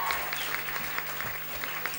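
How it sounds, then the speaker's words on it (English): At a Sea World dance show, the audience bursts into applause for the Atmosphere girls, a full, continuous clatter of clapping hands that stays loud for the whole stretch, with a faint voice beneath. "How about a round of applause for those girls"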